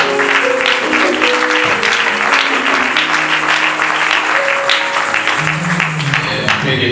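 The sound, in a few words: congregation applauding and acclaiming in church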